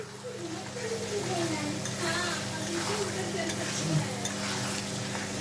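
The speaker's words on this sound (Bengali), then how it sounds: "এটা তেল ছাড়ছে, এতে আলু দিয়ে কষবো" Potatoes frying in oil with toasted coriander, cumin and fennel spices, a dense continuous sizzle close up with soft stirring scrapes, steady and fairly loud throughout.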